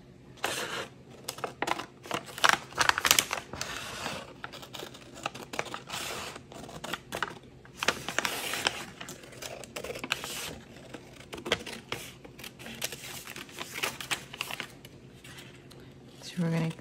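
Scissors snip out small paper pieces for a diamond art painting project, giving a run of crisp, close crinkles and cuts with quiet handling noise between them and a voice talking now and then.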